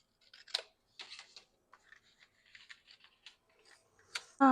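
Scissors trimming paper scraps for an art journal, a series of short crisp snips and paper rustles close to the microphone with quiet gaps between cuts, no talking.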